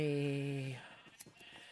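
A single loud, drawn-out sheep bleat from the Minecraft video game, clear and close, followed by faint clicks and soft background noise.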